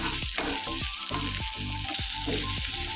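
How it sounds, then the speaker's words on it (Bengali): Onion and garlic fry in a pan with a loud, steady hiss and crackle, broken by regular scraping stir strokes about every half second, close up and without speech. "পেঁয়াজটা ভাজতে ভাজতে রসুনটা ভাজতে ভাজতে"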